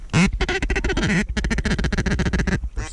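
A flock of ducks quacking overhead in heavy fog during a hunt from blind chairs, a dense run of loud, close quacks repeating almost continuously with no talk.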